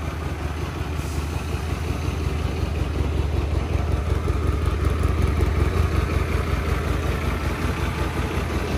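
A Hyosung GT125R motorcycle engine idles steadily nearby in a showroom, a low, even rumble with no voices.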